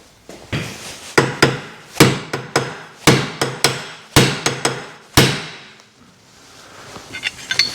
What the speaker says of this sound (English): hit the flange here and hope the shock will somehow loosen it